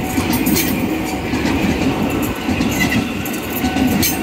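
A KRL commuter electric train rumbles past close by at a railway level crossing, loud and continuous, with rhythmic clacking of wheels over the rails and a faint metallic squeal.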